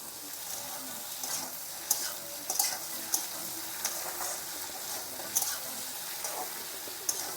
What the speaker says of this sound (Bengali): দিয়ে ভালো করে আমি একটু ভেজে নিই